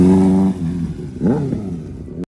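A car with a 5.0 engine at a car meet revs up loudly nearby, a deep throaty rumble that rises and falls with throttle blips before cutting off.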